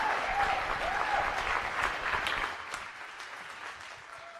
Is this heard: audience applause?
yes